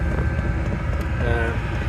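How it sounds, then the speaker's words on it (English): Diesel heater blowing hot air inside a Peugeot Boxer Autosleeper camper van, a steady close broadband whoosh of fan and airflow running continuously with a faint low rumble. "So the hose runs round and then blows lovely hot air out of here"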